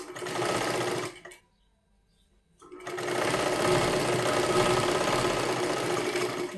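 A sewing machine stitches a princess-cut blouse with lining in close, rapid mechanical whirring bursts: one short run, a pause of about a second and a half, then a longer steady run to the end.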